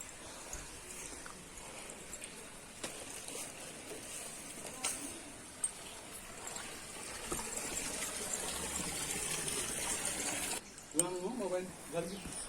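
Water streams down a hillside near temples, a continuous rushing wash that swells louder later on, with people talking over it.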